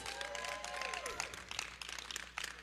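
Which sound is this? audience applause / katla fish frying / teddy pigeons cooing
audience applause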